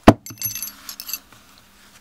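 A firing pin is pulled out of an AR-15 Relia-Bolt, giving a sharp metallic clink followed by a few light scraping and jingling clicks of small steel parts, close and brief.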